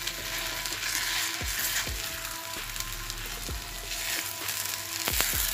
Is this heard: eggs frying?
yes